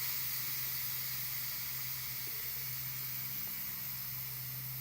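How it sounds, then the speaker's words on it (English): Steam hisses steadily from the pressure-release valve of a quick cooker making hard-boiled eggs, a faint, even rush of noise with a low hum underneath and no talk. "press the steam release button to manually release the pressure"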